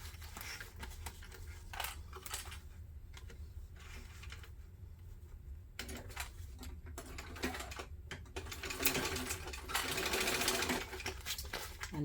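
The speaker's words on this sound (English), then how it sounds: "we're going to sew across the top with the seam allowance in the pattern" A sewing machine sews across the top of a backpack through its lining, with quiet bursts of rapid clicking stitching separated by short pauses and handling noises, fairly soft and close.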